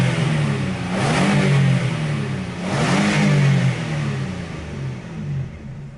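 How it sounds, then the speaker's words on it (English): A 2016 Nissan NV work van engine is revved twice up and back down, rising and falling in two loud, close sweeps over a steady running drone. "Runs great, idle smooth."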